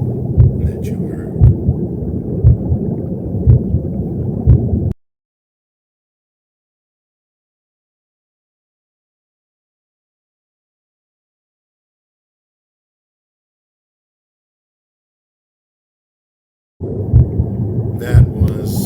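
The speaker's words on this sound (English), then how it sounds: "That was, of course, the sound of the inside of the womb." Inside the womb: muffled low rumbling with a rhythmic, pulsing beat. It comes in two short stretches separated by a long silence.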